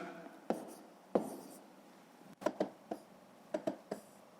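A pen or pencil writes down a math solution in short, quiet scratches and taps, separated by pauses, close and alone in a silent room.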